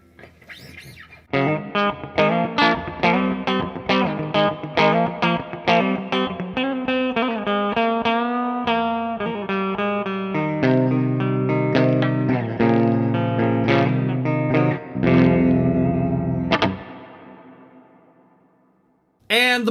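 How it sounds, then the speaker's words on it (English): Orange Crush CR120 guitar amp with its hall reverb engaged, playing a run of distorted guitar notes and chords with a spacious wash trailing each attack, then letting the final chord ring out and fade. "Let's switch it over to the hall reverb."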